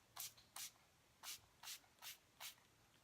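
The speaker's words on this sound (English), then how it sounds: "We're going to spray it down, closing my eyes." Six short, quiet hisses from a pump spray bottle misting homemade rose water setting spray onto a face, spaced almost evenly and heard alone.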